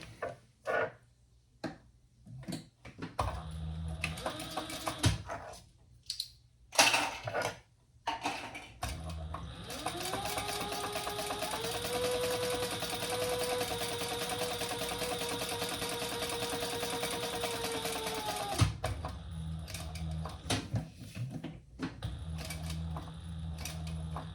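A sewing machine stitches a quarter-inch seam in one long steady run of about ten seconds, after scattered clicks and handling noises, with more light fabric and tool sounds afterward.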